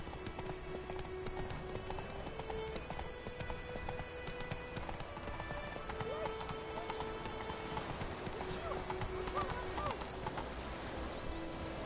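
Horse hooves gallop in The Witcher 3, a fast, steady clip-clop of rapid close hoofbeats that runs throughout with faint game ambience and occasional voices beneath.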